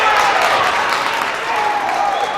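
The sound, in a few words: basketball crowd cheering after an offensive rebound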